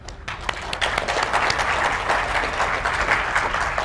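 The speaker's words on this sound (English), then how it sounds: "Round of applause for them" Audience applause at a BSides security conference talk, a steady dense wash of clapping that starts abruptly and holds evenly throughout, fairly loud and close, with no talk over it.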